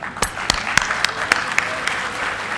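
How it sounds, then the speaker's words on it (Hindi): An audience at a university symposium in Meerut stands and claps for the nation's soldiers, a steady wash of applause with sharp individual claps standing out throughout, loud and close. "सब खड़े होकर देश के सैनिकों के लिए ताली बजाएंगे"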